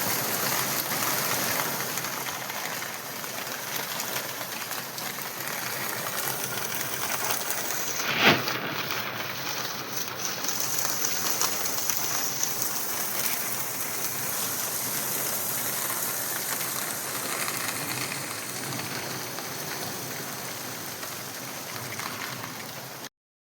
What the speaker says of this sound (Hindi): ये देखिए, बाहर में आज ऐसे बारिश लगी हुई है